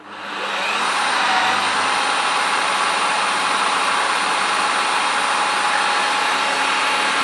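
A car engine starts again and settles into a steady idle after an alternator failure, a continuous broadband hum that holds at an even, fairly loud level with no talk over it.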